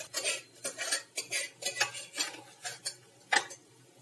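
Metal spoons and utensils clink and scrape against a pot and serving dish as mutton and spinach curry is ladled out, a rhythmic series of distinct close taps with brief pauses between them.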